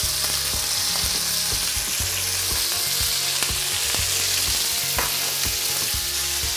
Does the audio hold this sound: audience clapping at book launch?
no